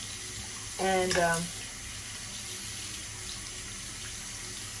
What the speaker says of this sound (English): I start rinsing it out with hot water